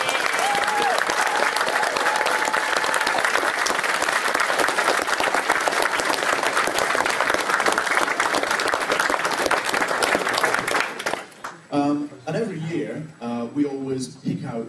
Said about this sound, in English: But give them a round of applause for them.